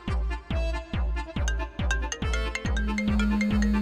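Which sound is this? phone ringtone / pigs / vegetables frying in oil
phone ringtone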